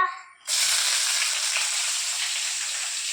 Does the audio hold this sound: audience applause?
no